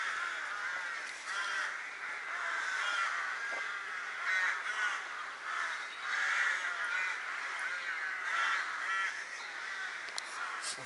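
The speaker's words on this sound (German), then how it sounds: "Hier die Krähen oder Raben" Crows cawing from the treetops of a forest in Jutland, Denmark, many overlapping harsh caws from a distance, continuous and fairly faint, with no talking.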